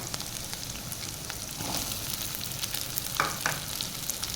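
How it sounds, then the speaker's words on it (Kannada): Onion and green chillies fry in a pan for chilli chicken, a constant close hiss of oil with occasional crackles and brief stirring scrapes near the end. "ಇದನ್ನು ಒಂದು ನಿಮಿಷದಷ್ಟು ಫ್ರೈ ಮಾಡೋಕ್ಕೆ ಬಿಡೋಣ"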